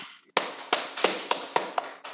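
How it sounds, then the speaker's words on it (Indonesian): Applause from a classroom group for Budi's team, heard as a series of separate, fairly loud claps at a steady pace, with no talking over them. "Tepuk tangan untuk kelompoknya Budi"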